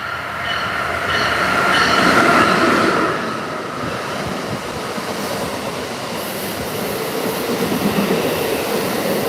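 NJ Transit train with an ACS locomotive at the rear passing close by, a loud steady rumble of rail cars with wheel squeal and clatter throughout.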